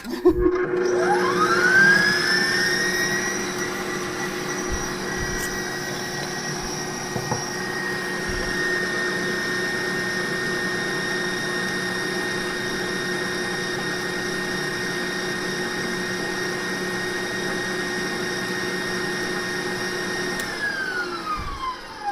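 Electric mixer whipping tallow body butter infused with lavender and essential oils, a steady high motor whine that spins up at the start and holds evenly for a long stretch before winding down, close and alone.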